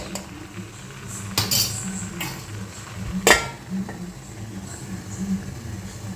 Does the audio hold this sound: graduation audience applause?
no